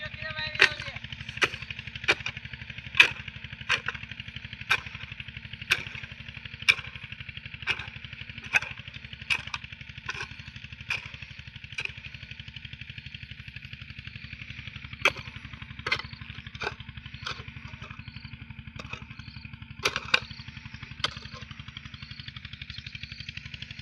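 A tractor works a farm field while furrows are being made, its steady low engine drone running throughout with a string of sharp, evenly spaced clicks or knocks over it.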